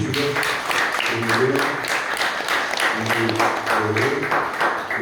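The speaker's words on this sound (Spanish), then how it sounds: "quiero pedir también un respetuoso aplauso para ellos que ya no están con nosotros" Crowd at a National Police Day ceremony giving continuous, even applause throughout, with voices mixed in beneath the clapping.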